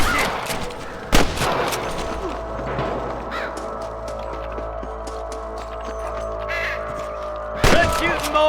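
Sharp gunshots crack in the Red Dead Redemption video game during a shootout with snipers, two loud close reports separated by several seconds, with distant shots, bird caws and a low rumble between them.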